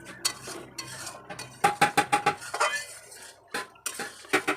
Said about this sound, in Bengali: এবার তেলের মধ্যে বেশ ভালো করে কিন্তু কষিয়ে নিতে হবে দু থেকে তিন মিনিট ধরে হাই ফ্লেমে